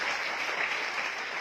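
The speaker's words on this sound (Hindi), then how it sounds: "एक बार जोरदार ताली।" A short burst of crowd clapping at a live company event in Bundi, Rajasthan, a steady even patter of many hands at moderate loudness with no talk over it.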